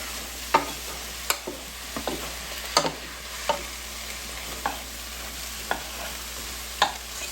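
Vegetables softening in a hot pan, giving a low steady sizzle broken by sharp clicks and knocks, likely a utensil stirring against the pan at irregular intervals.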